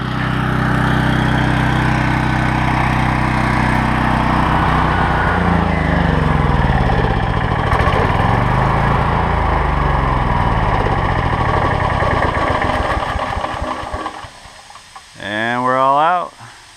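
A Ridgid 5700-watt portable generator engine runs loud and steady, its hum wavering as the fuel starves, then sputters and cuts out near the end with a brief voice following.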